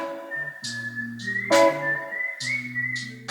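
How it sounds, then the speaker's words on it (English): Human whistling carries a melody through a music interlude, clear tones phrased in short bursts over a steady backing of bass notes and chords, with no talking. "And then we have the whistling part."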